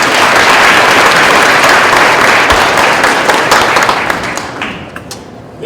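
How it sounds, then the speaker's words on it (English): Loud audience applause at a school winter sports awards ceremony, dense clapping from a crowd that gradually thins and fades out toward the end. "so a round of applause for Amelia"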